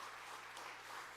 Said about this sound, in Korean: 격려 축복의 박수 한번 해주시길 바랍니다